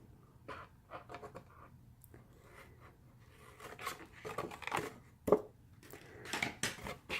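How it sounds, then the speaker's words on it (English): Scissors snip through paper edges while trimming a triple flap fold card, a run of short dry cuts and rustles close by, quiet and uneven, with a few sharper crisp snips near the end. "then you're going to cut off these edges right here"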